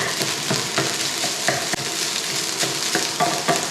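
Egg fried rice hisses and crackles loudly in a hot pan while being stirred and pressed, a dense continuous sizzle broken by scraping stir strokes, with no talking.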